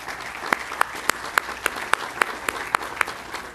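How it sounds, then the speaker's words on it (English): An outdoor crowd at a town center groundbreaking ceremony claps in a steady rhythm, with sharp, evenly spaced handclaps standing out over a soft bed of scattered applause, moderately quiet. "let's give them another round of applause"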